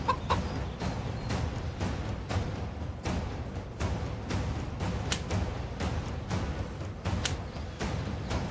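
A chicken clucks in short, sharp, repeated bursts over a steady noisy background, fairly loud and close, with no talking.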